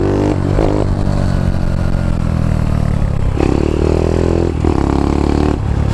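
A Honda Dax 140 motorbike pulls steadily in third gear, its engine droning loud and close with a constant buzzing tone and small rises in pitch as it accelerates, with no speech.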